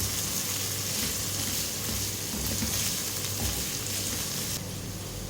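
Chana dal sizzles as it fries with onions and spices in a pan, a constant close hiss and crackle that holds steady throughout.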